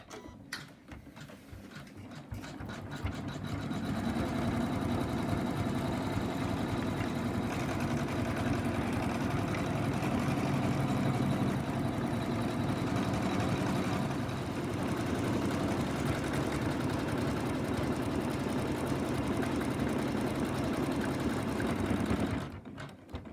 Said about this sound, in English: it's now going to stitch out the outlines of the limbs.